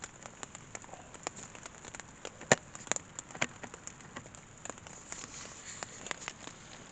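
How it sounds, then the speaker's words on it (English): Rain patters on a stealth camp at night near a mansion estate, a steady close hiss broken by scattered sharper drops landing on a nearby surface. "You can hear the rain."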